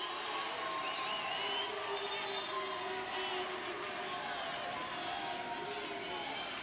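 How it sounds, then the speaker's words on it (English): A stadium crowd at an LA Galaxy II versus Rio Grande Valley FC soccer match groans over a foul appeal, a steady, loud wash of voices filling the whole stretch, with a voice faintly under it. "The appeals for the foul is what the crowd is groaning about"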